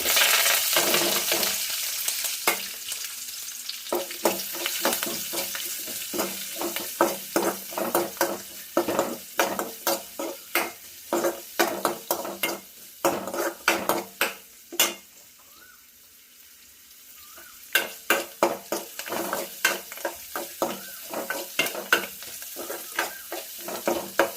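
Mustard seeds and chana dal crackling and sizzling in hot frying oil, with bursts of sharp popping and stirring scrapes in uneven rhythm, close and fairly loud, pausing briefly midway before the crackle resumes.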